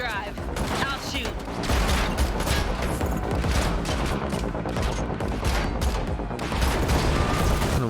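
Rapid bursts of gunfire in a Matrix Unreal Engine 5 video game demo, a dense, continuous barrage of shots mixed with mechanical clatter and other game sounds throughout.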